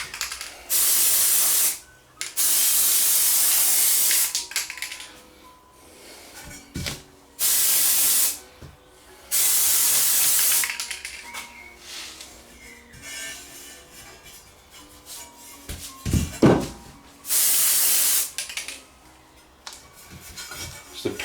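Spray can laying a first coat of paint on a CB radio part under repair, several loud hissing bursts of a second or two each separated by pauses, with faint background music in the gaps.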